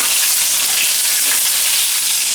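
Mango pieces fry in hot oil with tempering spices while being stirred, giving a loud, continuous crackling sizzle close by with no voices.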